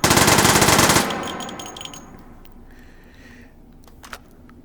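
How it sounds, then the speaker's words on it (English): A three-round burst from a gun in the VR shooter Hot Dogs, Horseshoes and Hand Grenades: a loud, rapid crack of shots lasting about a second, then quiet mechanical clicks and a faint clatter. "3-round burst."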